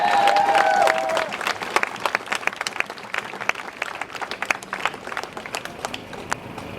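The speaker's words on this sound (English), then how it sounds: "Let's give him a round of applause, everybody." Crowd applause at an outdoor protest rally in Denver, dense sharp clapping that swells then thins out over several seconds, with a brief whistle-like tone at the start.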